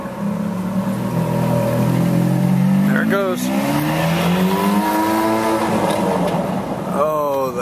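A Ferrari 430 with a loud, grunting exhaust revs up and down in repeated rising and falling sweeps, close and prominent, while people talk over the engine noise.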